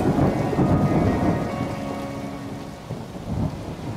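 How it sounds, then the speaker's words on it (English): Heavy rain pours steadily while deep thunder rumbles and rolls, loud and close, with no voices. "Hold on, we got the rain sounds."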